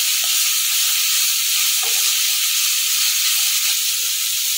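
Chilli garlic prawn egg noodles stir-frying in a pan, a steady loud sizzle with a hissing wash throughout and a few faint scrapes of stirring, no voices.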